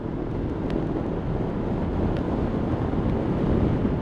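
Wind turbulence buffeting a rider on a 2019 Honda CB500X motorcycle, a steady loud broadband roar with a deep low rumble throughout and no speech.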